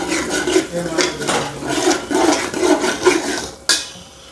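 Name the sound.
masala and onions being fried and stirred in a pot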